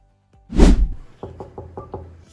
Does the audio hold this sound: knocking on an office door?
yes